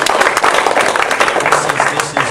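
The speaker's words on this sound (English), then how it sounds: "Can we have a round of applause for FERCON for putting this together?" A lecture audience at an anti-war event breaks into applause, a dense wash of many hands clapping close and loud, with voices mixed in.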